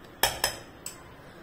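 A spoon clinks against a bowl while masala bhel of tomato and cucumber is being mixed: three sharp, close clinks, two in quick succession and then a third after a pause, with no talking.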